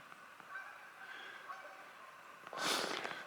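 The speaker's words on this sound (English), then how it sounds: "So Canada geese molt in the summertime" Canada geese give a brief loud honking burst near a pond by farmland, rising out of quiet outdoor background near the end of the clip.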